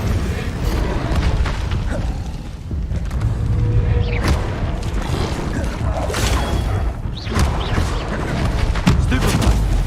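Casting the Incendio fire spell in Hogwarts Legacy brings a heavy booming, crackling rush amid steady battle clamor, loud and sustained, with scattered crashes and impacts layered on top.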